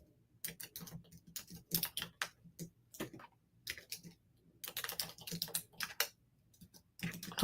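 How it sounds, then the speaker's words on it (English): Someone types on a computer keyboard in bursts of quick, quiet key clicks, separated by short pauses. "I'm typing this out."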